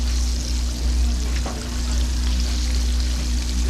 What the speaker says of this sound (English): Frying up.